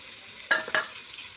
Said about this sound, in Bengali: এই যে পেঁয়াজটা দিয়ে দিয়েছি, এখন নাড়া দিয়ে দিলাম।